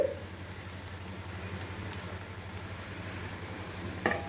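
Ponnaganti greens frying with coriander and mint are stirred in a pan, giving a quiet, steady sizzle with soft scraping and a brief clink of a utensil near the end.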